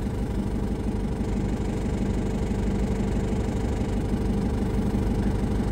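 A tractor engine idles nearby, a loud, continuous low rumble with a knocking, vibrating texture that stays steady throughout.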